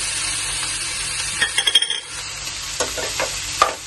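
Ginger and garlic frying with tomato and onion for a mutter paneer gravy: a steady close sizzle with a cluster of quick utensil taps and scrapes in the middle and a few more near the end.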